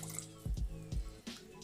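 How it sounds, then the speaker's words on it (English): Rinsing a small aquarium test vial with RO water gives faint splashes and a few quick drips and sloshes, close and quiet with no talking. "I give that then a bit of a rinse"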